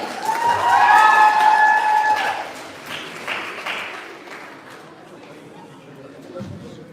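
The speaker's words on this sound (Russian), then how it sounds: "Провожаем конкурсантов аплодисментами" Audience clapping and some cheering for contestants at a school-leavers' Miss pageant, following a brief musical tone, with scattered claps fading into a quieter hall.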